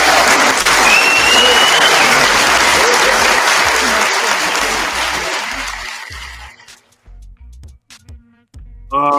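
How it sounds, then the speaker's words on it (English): Dense hand-clap applause from an audience rolls loudly for several seconds and then thins out, leaving a few scattered claps and faint sounds. "Give him a hand clap, please, sound selectors."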